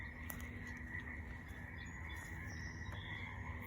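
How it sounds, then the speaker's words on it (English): Frogs croak steadily in a faint outdoor chorus, a continuous pulsing drone with occasional clicks, no voices. "do you hear the frogs?"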